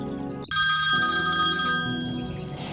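A telephone starts ringing abruptly, a loud, steady electronic ringtone that holds for a couple of seconds after a brief stretch of quieter tonal sound.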